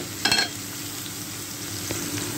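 Tomato frying in a pan, a steady soft sizzle throughout with a couple of brief clatters of stirring, no speech.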